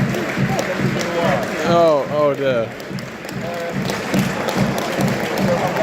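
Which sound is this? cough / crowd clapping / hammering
crowd clapping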